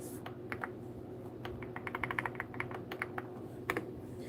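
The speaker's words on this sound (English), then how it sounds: "I'm typing names live." Computer keyboard typing during a live stream, with irregular bursts of quick keystrokes over a steady low background hum, fairly close and moderately loud, no voices.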